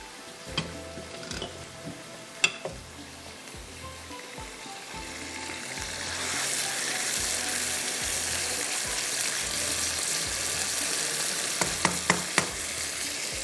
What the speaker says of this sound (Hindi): अब इसको मैं हाई फ्लेम पे करूँगी फ्राई, तेज़ आग पर इसको भूनना है।